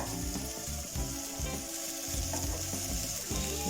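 Chopped carrots frying in a pan for an egg pasta dish give a steady, dense sizzle with faint stirring scrapes, close and continuous with no voices.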